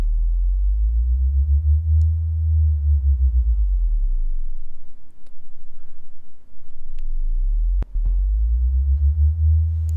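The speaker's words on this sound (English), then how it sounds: "I'm going to apply this LFO just to the frequency of my first oscillator." A low synth tone wobbles steadily up and down in pitch as an LFO modulates the oscillator frequency in Ableton Live, sweeping slowly and continuously, with a few faint clicks along the way.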